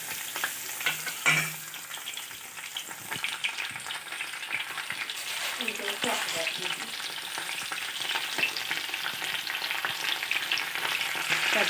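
Curry leaves crackling and spitting in hot oil for a Gulivindala fish curry, a close busy sizzle with a sharp burst early on and continuous popping, no talk.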